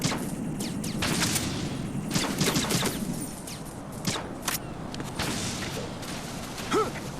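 Dense gunfire in the stealth action video game Metal Gear Solid 2, a steady stream of overlapping shots and bursts at constant loudness, with whooshes and booms scattered through the mix.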